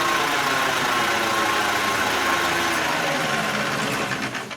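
A bus engine idles steadily with a mid-pitched hum, then sputters and winds down as it cuts out at the end.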